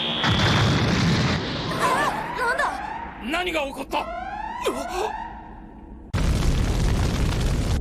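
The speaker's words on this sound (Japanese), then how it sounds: "左翼端部で爆発。" A loud explosion bursts on the left wing tip of a spacecraft boarding for space travel in an anime rescue-robot series, followed by startled voices and a renewed heavy roar of fire and blast noise.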